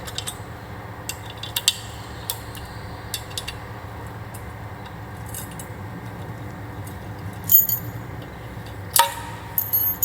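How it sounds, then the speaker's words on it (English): Small metal Allen keys clinking and jangling as they are handled during a 4x4 driving light install, sparse light taps with a couple of louder clinks near the end. "Now there are two Allen keys, a smaller one and a bigger."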